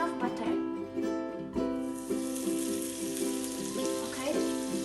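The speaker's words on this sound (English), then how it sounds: "for the second step, we're gonna fry our French toast." French toast fries in melted butter in a pan, a steady close sizzle running throughout with faint rhythmic stirring or scraping touches, no voices.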